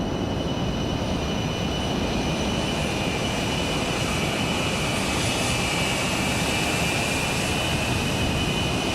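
ERJ145 jet engines in a flight simulator game, a steady, loud, broadband roar with a constant high whine running through it, unchanging for the whole stretch with no talk.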